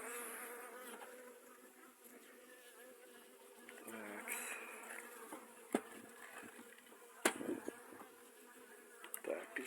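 Honey bees buzz softly around a small beehive split, a faint, continuous hum with occasional clicks and knocks from the hive being handled nearby.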